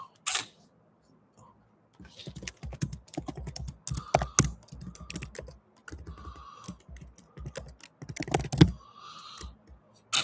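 Someone types on a computer keyboard in uneven bursts of close, crisp key clicks. Short pauses separate the bursts, and there is a quiet stretch near the start.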